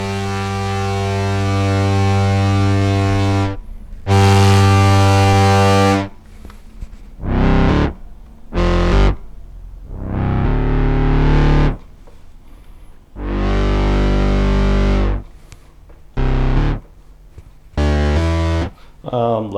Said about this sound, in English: we've got the filter drive and distortion here, and let's listen to this